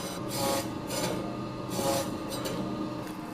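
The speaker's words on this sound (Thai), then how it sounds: "เนื้อก็จะสไลด์ออกมาสวยๆแบบนี้เลยค่ะ" A meat slicer machine slicing meat rasps quietly and rhythmically, with a soft scraping swish repeating about once a second as the blade cuts through.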